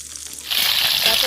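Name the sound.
carrot and capsicum frying in pan for fried rice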